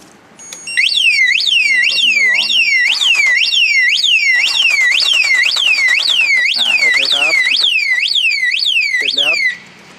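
A loud motorcycle anti-theft alarm siren on a Kawasaki Z800 whoops in rapid repeating sweeps for about nine seconds, with faint voices murmuring underneath.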